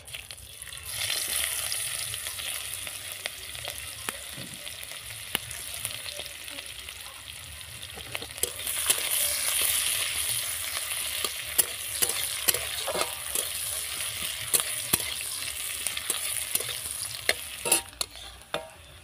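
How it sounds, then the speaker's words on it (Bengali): Chopped onions frying in oil left over from frying ruli fish, a continuous close sizzle with scattered crackles and spoon scrapes as they are stirred, growing slightly louder midway. "তো এই তেলের মধ্যে আমি এখন দিয়ে দেবো কুচনো পেঁয়াজ"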